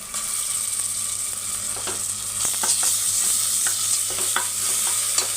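Ginger paste fries in a pan while a spoon stirs it, steady sizzle broken by several sharp scraping clicks in the second half, close up and without talk.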